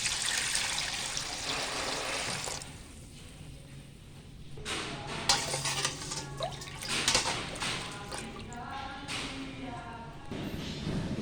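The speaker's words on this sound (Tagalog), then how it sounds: "Maglagay tayo ng tubig." Water is poured into a large pan for cooking milkfish paksiw, giving a faint splashing trickle with irregular bursts of pouring and clattering against the pan.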